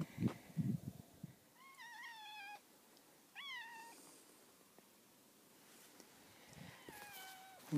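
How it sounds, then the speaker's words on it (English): A cat meows three times at close range, each cry a clear rising-falling wail, with quiet gaps between, heard in a shop while an old tire is being repaired on a rough terrain forklift. "And kitty cat's here to help out too, I guess."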